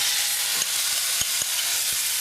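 Steady hissing sizzle of tomatoes frying in a pan over medium heat, with a few soft clicks and taps of a utensil stirring.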